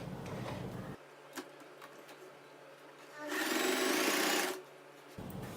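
Sewing machine stitching saree falls, one short run of whirring stitching rising in the middle between quieter stretches with small handling clicks, close and moderately loud.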